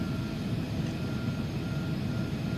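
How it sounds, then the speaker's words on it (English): A small Piper Cherokee single-engine plane in the FSX flight simulator rolls for takeoff, its steady low engine drone holding continuous and fairly loud with no talk over it. "There's a little Piper Cherokee going for takeoff."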